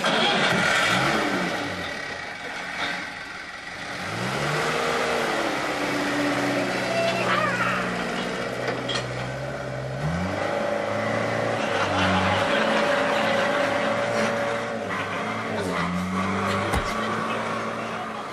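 An early Land Rover driving off-road, the engine revving up and down in rising and falling pitch sweeps, close and loud, with voices talking over it.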